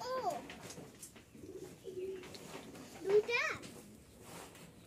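Soft pigeon coos rise and fall a few times, close by, with faint voices and background chatter mixed in.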